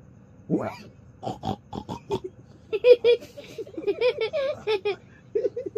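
A voice imitates a pig oinking in a playful storytelling of the Three Little Pigs, with several short grunting bursts followed by nasal squealing calls, close and fairly loud.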